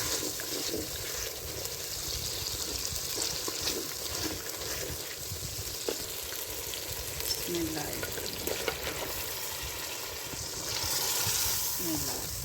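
Chicken sizzling in butter masala in a pan for a home-style chicken matar curry: a continuous low frying hiss with occasional stirring clinks and a brief swell of louder sizzle toward the end.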